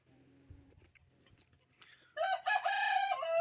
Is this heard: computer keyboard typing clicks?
no